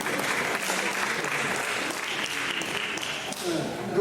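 A congregation at a Korean church Christmas service in Berlin applauds. The dense, steady clapping lasts the whole time, and a voice is heard faintly beneath it.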